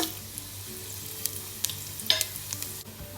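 Spices fry in hot oil and ghee in a pan, a close continuous sizzle and crackle with scattered sharp pops, no voices.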